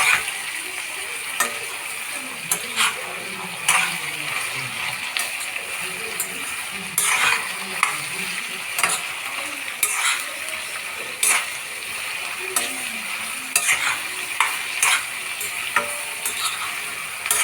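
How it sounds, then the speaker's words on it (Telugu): Bitter gourd curry frying in a pan is stirred with repeated spatula scrapes and knocks over a soft, steady sizzle, close and fairly loud throughout. "ఇట్లాగే కలుపుకొని మనం ఫ్రై చేసుకోవాలి ఇవి కలర్ చేంజ్ అయ్యేంత వరకు"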